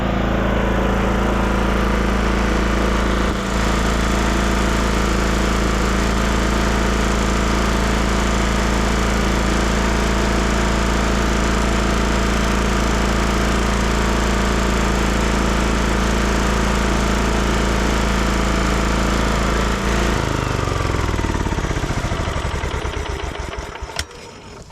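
A lawn tractor engine with a governor problem runs nearby for a long stretch, a loud steady drone with a chugging pulse and a brief hiccup early on, before it winds down and dies near the end.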